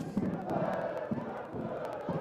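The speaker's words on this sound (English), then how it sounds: "a very healthy crowd inside the Vasa Stadion" Large stadium crowd at a women's football match in the Vasa Stadion beside a river, a steady distant roar of voices with scattered shouts and chanting.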